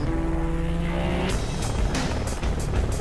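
A training helicopter from a flight school in Kailua Kona, Hawaii, flies nearby, its steady engine and rotor drone getting louder and rougher partway through, with no talking.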